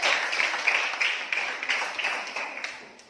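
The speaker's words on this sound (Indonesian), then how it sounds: "Tepuk tangan buat kelompok satu." Classroom applause for a group of fourth-grade students after their presentation; a short, lively burst of clapping that starts strong and gradually thins out.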